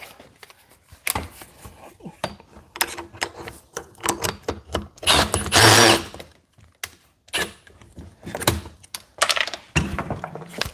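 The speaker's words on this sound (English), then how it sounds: "Get the old drill." An old power drill runs on a door motor assembly in a workshop, giving a loud, steady whir for about a second amid a busy stretch of clattering tool knocks and taps, with faint speech in the background.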